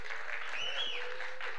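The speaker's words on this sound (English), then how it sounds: "please give yourself a huge round of applause" A conference crowd at an Industry 4.0 tech event gives a loud, continuous round of applause, with sharp whistles rising over the dense clapping midway through.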